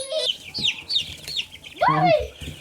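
Several meat chickens clucking and chirping nearby on a homestead at feeding time, rapid high calls followed by a louder drawn-out squawk.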